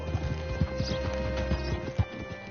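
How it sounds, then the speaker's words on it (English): Horse hooves clop in an uneven walking rhythm in Red Dead Redemption 2, close and fairly loud over a steady ambient hum, with a faint snort and no talk. "Hitch your horse up here."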